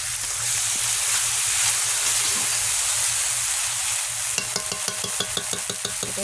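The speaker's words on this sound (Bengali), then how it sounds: "এটাকে কষাবো।" Onion paste and mustard paste sautéing in hot oil, heard as a dense, steady sizzle and hiss. Toward the end, quick rhythmic scraping and knocking of a spatula against the pan joins the frying.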